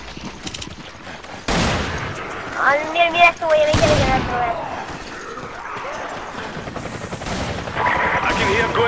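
Rapid bursts of gunfire in the Resident Evil 5 Versus mode ring out in loud clusters, mixed with game effects, while a player talks excitedly over the action.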